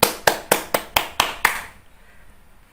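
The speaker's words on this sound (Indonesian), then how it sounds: "Tepuk tangan untuk anak-anak semuanya" Children in a religion class clap in unison, six sharp, evenly spaced claps close by, then the room falls quiet.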